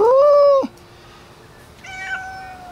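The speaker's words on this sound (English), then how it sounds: "Yep, that's the feral cat." A feral cat on a pool deck gives a loud, close, drawn-out meow. A pause follows, then a second, quieter meow.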